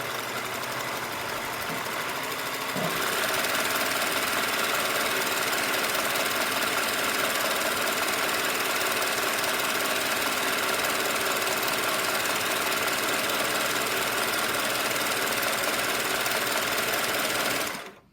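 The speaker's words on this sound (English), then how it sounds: "So I'm serging down one side." A serger overlocks a seam on dress fabric for a wrap dress, running fast and loud in one long continuous whirring, rattling burst after a short quieter start, then stopping abruptly at the end.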